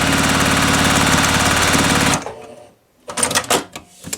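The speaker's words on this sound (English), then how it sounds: "So I've got this little thin blue strip, and I'm going to sew that one on next." A sewing machine runs fast and steadily, stitching a thin blue fabric strip for an improv quilt block, loud and close for about two seconds, then stops, followed by a few handling clicks and rustles.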